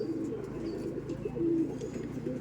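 Soft, low cooing of an aggressive Madras pigeon repeats close by against a quiet background hum.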